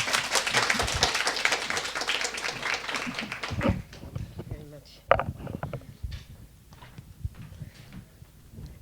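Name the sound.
audience applause welcoming a speaker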